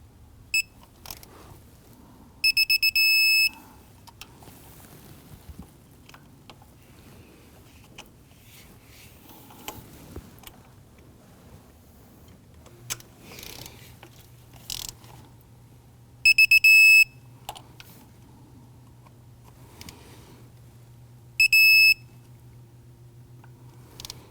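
A torque wrench tightens the thermostat housing bolts on a 2009-2017 Volvo XC60 3.2L six-cylinder. Three sharp electronic beep bursts sound apart over faint tool clicks and a low hum.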